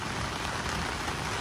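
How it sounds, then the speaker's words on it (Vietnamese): Heavy midday rain pours steadily as a dense, unbroken hiss, close and loud throughout with no voices. "Lớn lắm, hôm nay mưa lớn, đám mưa khá to."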